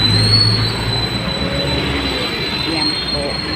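An MRT train in Manila rolls along its rails with a loud, close rumble and a steady high-pitched squeal riding over the running noise throughout.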